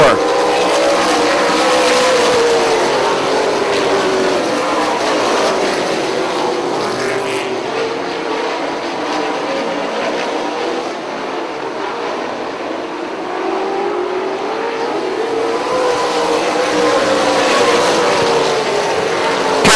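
Late model stock cars roar off turn four at a race track, a loud sustained engine drone that swells as the pack passes near, dips and builds again, with a voice faintly heard beneath.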